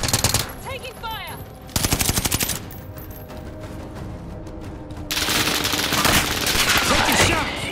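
Automatic and single gunfire in Call of Duty: Modern Warfare, dense rapid bursts with sharp cracks and heavier volleys, loud and continuous with a short lull before firing picks up again.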